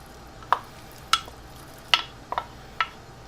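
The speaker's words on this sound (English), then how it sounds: "We're going to saute some bacon" Bacon cooking in a skillet over medium heat, with a faint steady sizzle and five or so sharp pops or spatters spaced through the moment, no talking.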